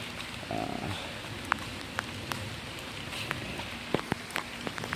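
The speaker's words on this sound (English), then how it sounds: "Looks like we've got some rain starting up again" Light rain patters on a surface, with scattered sharp drops tapping irregularly over a soft, continuous hiss.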